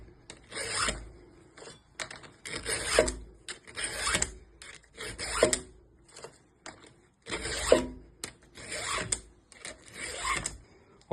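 A round file rasps across chainsaw chain teeth clamped in a vise, sharpening them one tooth at a time in repeated bursts of three or four close, steady strokes with short pauses between teeth.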